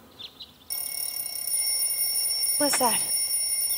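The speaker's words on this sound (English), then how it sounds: "Your alarm clock, silly." A bedside alarm clock starts ringing abruptly and keeps going as a loud, steady, high electronic tone, while a voice speaks briefly over it.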